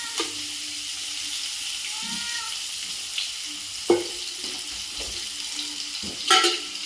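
Onions sauté in oil with a constant soft hiss, broken by a few sharp clinks of a utensil against the pan and a brief louder rattle near the end, close by.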